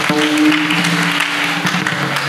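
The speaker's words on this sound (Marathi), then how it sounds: "जरा तिच्यासाठी थोडेसे आपण टाळ्या वाजवायला काय हरकत नाही" An audience claps together at a kirtan, a devotional singing gathering, with a steady wash of applause over a sustained instrumental tone for a couple of seconds.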